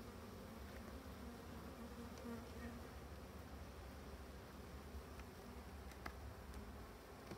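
Dense, continuous buzzing of honeybees around an open hive during a spring colony inspection, the swarm close and steady with individual bees droning past now and then.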